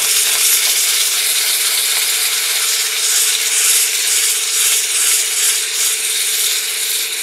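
Sandpaper is held against a wooden bowl spinning on a lathe, giving a continuous loud, even rasping hiss with a faint steady motor hum beneath, no voices.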